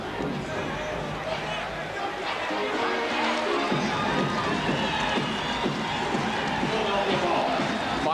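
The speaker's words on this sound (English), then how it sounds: "That got the crowd into it." A basketball arena crowd at a Sacramento Kings versus Philadelphia 76ers game roars and cheers during a fight on the court, a dense sustained wall of shouting with a commentator talking over it.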